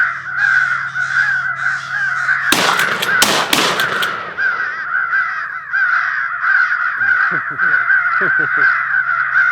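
A recorded crow fight call plays during a deer hunt, answered by continuous overlapping cawing from several crows, with a loud, harsh flurry of calls in the middle.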